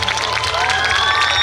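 Schoolchildren clapping and cheering at a school annual day celebration, a dense loud crowd of applause and shouts filling the short moment.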